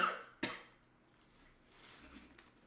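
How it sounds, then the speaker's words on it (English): A single sharp cough from someone eating a spicy burger, one loud burst followed by quieter breathy throat sounds, close to the microphone. "Shit making me cough."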